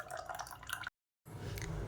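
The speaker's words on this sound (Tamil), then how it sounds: "மிக்ஸி அலசிட்டு கொஞ்சமாக தண்ணி சேர்த்துக்கோங்க." Water poured into a rinsed mixer grinder jar, a short splashing trickle before a silent gap, then a fuller pouring, filling sound resumes.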